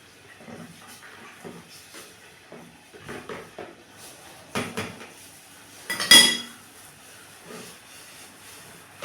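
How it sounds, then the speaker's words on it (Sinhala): Fresh milk is stirred in a pot, with soft, irregular scrapes and clinks of a utensil against metal and one sharper clank near the middle, all fairly faint and close. "අපි ගත්ත ෆ්‍රෙෂ් මිල්ක් ටික මේකට එකතු කරලා මේක කලවම් කරගන්න ඕනේ."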